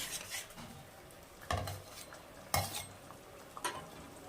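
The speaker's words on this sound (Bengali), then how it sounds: "তো এভাবে মশলাটা কষিয়ে নেব।" Spice paste being stirred and fried in a pan for an egg curry with cauliflower: a soft low sizzle broken by three or four sharp scrapes and clanks of a spatula against the pan, fairly quiet and close.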